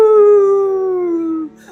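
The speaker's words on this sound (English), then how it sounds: "Beside the bog stood a dog who was howling." A dog stands beside a squishy bog and howls, a single loud, close, sustained howl sliding slowly downward in pitch, ending in a brief whimpering tail.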